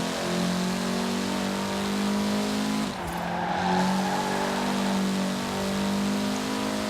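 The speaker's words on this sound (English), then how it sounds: "Hey, a rally car, you can go off-roading." Mitsubishi rally car engine in the Forza Horizon 4 racing game, with a loud, steady high-revving drone, a brief dip around a gear change, then renewed acceleration with no talking.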